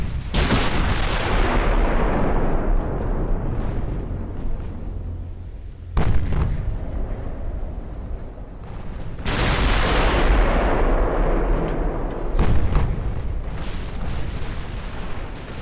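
Heavy naval gunfire from warships in the video game Ultimate Admiral: Dreadnoughts, loud booming salvos with rolling, overlapping blasts and a few sharp new volleys cutting in, continuous and dense with no talk.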